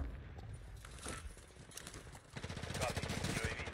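Video game gunfire rattles in quick bursts, a sharp crackling volley in the first half giving way to a denser rapid stream of shots later, heard at moderate loudness.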